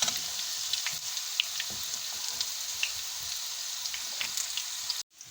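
Garlic, green chili and cumin tempering sizzles as it goes into masoor dal, a steady close crackling hiss with scattered pops that carries on evenly and then cuts off abruptly near the end, with no voices.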